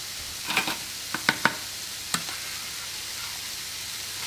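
Onions cook in a frying pan while being spread and stirred, with a soft background sizzle broken by several sharp, close scraping and tapping strokes early on, then settling into quiet frying.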